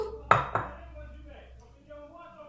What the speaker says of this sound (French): Maintenant, je vais poser mon fouet, me remunir de mon tamis et verser d'un coup tout